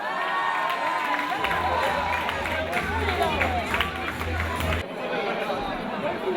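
Award ceremony audience applauding in a hall, a steady dense wash of clapping mixed with crowd murmur and a low hum, with a voice speaking over it.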